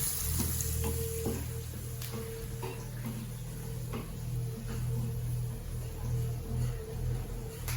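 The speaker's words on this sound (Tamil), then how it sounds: "இப்போ இந்த மிளகு சீரகமும் சேர்த்துடலாம் இதில் இதுவும் சேர்ந்து நல்லா பொரிஞ்சு வரணும்" Black pepper and cumin frying in a hot pan for millet pongal, a steady close hiss with occasional light pops and clicks, continuous over several seconds with no talking.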